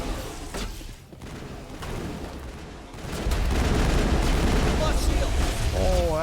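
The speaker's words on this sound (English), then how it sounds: "Oh, that's rockets." Rockets fired during Mass Effect combat come as a heavy rumbling barrage of booms and blasts that swells louder partway through, dense and close, with weapon and ability effects layered on top.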